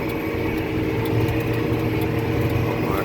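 A John Deere tractor working with a Krone 1290 baler is throttled back toward idle, its engine a steady, close, loud rumble with a slight pulsing throb throughout.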